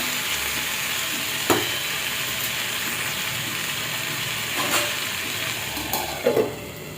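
Potatoes with green chilies steam and sizzle under a lid in a covered pan, a steady, even hiss with a few faint clicks and knocks scattered through it.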